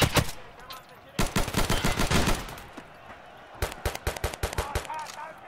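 Bursts of automatic gunfire from Tarkov Arena ring out in sharp, rapid clusters, a loud volley early on, a pause, then another string of quicker shots, all fairly close.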